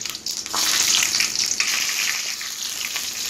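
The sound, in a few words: dry red chillies sizzling in hot oil with mustard seeds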